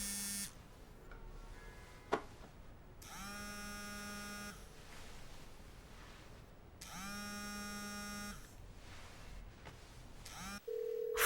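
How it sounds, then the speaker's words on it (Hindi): Telephone ringing in a dubbed Korean drama scene, two long buzzy electronic rings with a pause between, fairly loud over a quiet room, followed by a brief different tone at the end. "फोन उठाओ जल्दी।"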